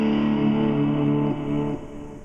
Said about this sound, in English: It's a tube screamer, kind of dull but punchy electric guitar sound, and even beyond that, a ton of delay and reverb.